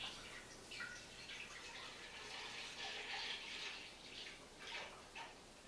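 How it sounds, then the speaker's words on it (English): A gallon of skim milk poured from a jug into a cooking pot, giving a soft, steady splashing pour with gurgling surges throughout. "1 gallon of skim milk, and I'm going to pour it into my pot."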